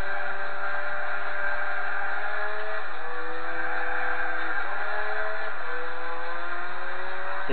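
A car engine in Gran Turismo 4 drones steadily with a buzzy, synthetic tone, its pitch stepping up and dropping back as the wheels spin and the revs rise and fall, alone without voices.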